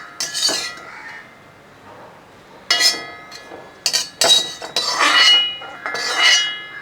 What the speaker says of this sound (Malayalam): ഇനി ഇതങ്ങ് നിർത്തിയിട്ട് മുട്ട റെഡിയാക്കിയത് ഒരു ബൗളിനകത്തോട്ട് മാറ്റാം